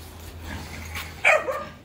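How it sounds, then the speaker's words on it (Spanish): Puppies from a litter bark and yip at a rural property, a couple of short sharp barks near the end over a quiet outdoor background, with no talking. "Miren los perritos."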